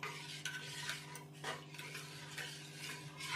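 Thin, runny dosa batter is stirred by hand in a bowl, giving a soft, steady swishing and sloshing that repeats in loose strokes, quiet and close, with no talking.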